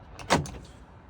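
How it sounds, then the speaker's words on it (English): A car door lock, just repaired after being stuck, actuates with a single short clunk followed by a faint mechanical rattle, close by and otherwise quiet. "and now the door lock does work."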